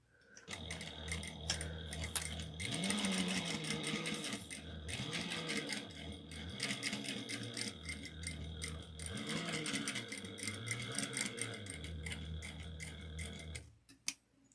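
A sewing machine runs in short stitching bursts with rhythmic mechanical ticking, pausing and restarting as back stitches are sewn near the start and end of a seam, fairly quiet and close, ending in a sharp click.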